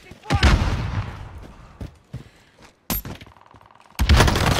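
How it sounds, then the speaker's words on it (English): Sharp gunshot bursts and a shattering impact crack in Call of Duty Warzone on Caldera, loud and separated by gaps, with game voice lines speaking between them. "Receiving hostile fire."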